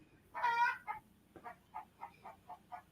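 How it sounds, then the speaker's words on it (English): Chickens squawking nearby: one long, loud squawk followed by a string of short, evenly spaced clucks against a quiet background. "Chickens are squawking."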